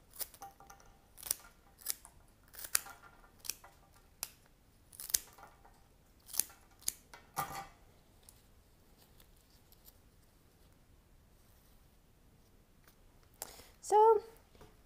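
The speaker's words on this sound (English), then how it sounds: "and then these stems, I like to cut pretty short." Scissors snip flower stems short for a late summer bridesmaid bouquet, with about a dozen crisp, close cuts spaced irregularly across a quiet room. A brief vocal sound comes near the end.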